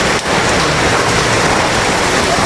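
Heavy, steady typhoon downpour roaring close by at landfall in Batangas, a dense wash of rain beating on surfaces without letup.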